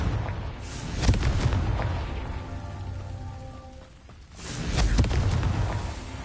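A Confringo blasting spell explosion in Hogwarts Legacy, a booming rumbling blast that fades, followed by a second rumbling burst a few seconds later, moderately loud with no voices.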